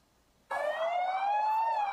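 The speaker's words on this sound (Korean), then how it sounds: "화재 신고를 받은 소방차가 달려갑니다." A fire truck siren starts abruptly and holds a loud, steady wailing tone, slightly rising in pitch, with no talking, as the truck heads through a market in Daegu, South Korea.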